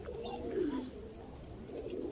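A pair of pigeons gives a soft, low cooing call in the middle, faint and fairly close against a steady background hum.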